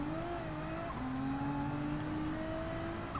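Race car engine in Gran Turismo 7 holding a steady drone, with a sharp downshift as the player brakes early for a corner before the note climbs again; continuous, moderately loud, no talk.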